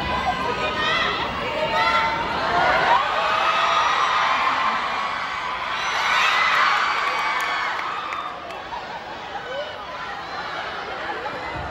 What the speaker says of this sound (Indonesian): Kasih tepuk tangan buat Mas Wiwi